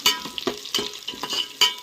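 Green chillies and onions fry in ghee with a close crackling sizzle, marked by rhythmic stirring scrapes roughly every quarter second.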